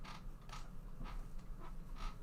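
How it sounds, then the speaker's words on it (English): An office chair creaks and squeaks in several short bursts spaced about half a second apart, fairly faint against a steady low room hum, with no talking. "My chair is squeaking."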